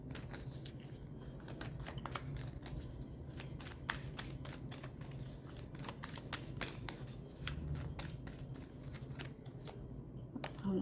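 A deck of cards is shuffled close up again and again, giving a steady stream of crisp riffling flicks and soft slaps that runs without a break and with no voice over it.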